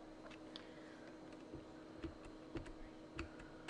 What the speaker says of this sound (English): I'm moving the window now with the arrow keys.